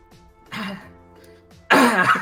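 A woman clears her throat in a short rough burst, then after a pause lets out a louder, harsher cough close to the mic, with no talking around it.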